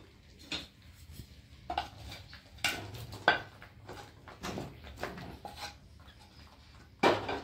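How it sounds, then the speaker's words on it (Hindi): Fried chicken pieces are tipped into a pan of gravy for butter chicken and stirred, with a utensil scraping and clinking irregularly against the metal pan in close, sharp bursts. "आता यात जे चिकन फ्राय केले आहे ते आता यात टाकून घ्यायचे आहे"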